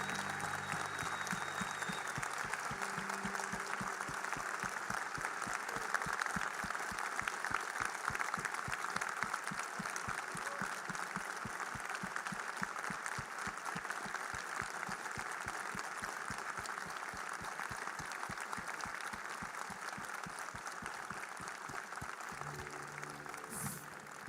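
A church congregation applauds its serving team with steady, sustained clapping lasting throughout, dense and moderately distant, without talk.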